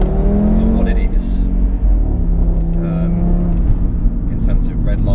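A used Audi RS3's engine drones and revs in a low, steady rumble, with rises in pitch under continuous close talk.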